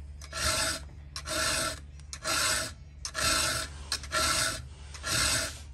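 A hand file rasps across a chainsaw chain's cutters in five even strokes, each a close, harsh scraping burst with brief pauses between, and no one talking.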